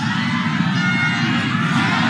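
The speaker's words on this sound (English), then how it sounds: "Every ball being clapped either by the Nepalese crowd, the Pakistan Shaheens crowd" Nepalese and Pakistan Shaheens supporters at a Top End T20 cricket match keep up a steady, dense crowd roar with scattered cheers and whoops, continuous and fairly loud throughout with no single burst standing out.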